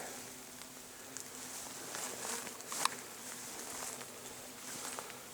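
Bees work pink acacia blossoms at an apiary in 35-degree afternoon heat, a soft continuous buzz close by with occasional louder passes and light ticks.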